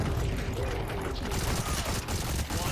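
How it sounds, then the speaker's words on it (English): Rapid gunfire from an M16-style rifle in the Blitz Brigade shooter game, a dense, steady crackle of shots blended with explosion rumble, with someone talking over the battle noise. "Gonna fire into the explosion and hope I hit something."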